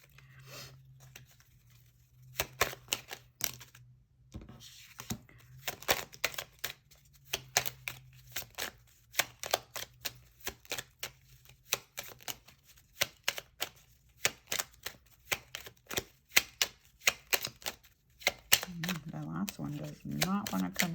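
Tarot cards being handled, shuffled and picked, with a long run of quick, close papery snaps and flicks in an irregular rhythm, while someone speaks over the last few seconds.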